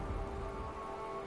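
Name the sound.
rain falling in the video game Unravel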